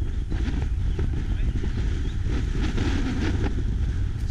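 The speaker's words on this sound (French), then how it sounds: "Quel vent!" Strong wind gusting outdoors during a trip in the Dombes, a loud steady roar buffeting the microphone, with a faint voice mixed underneath.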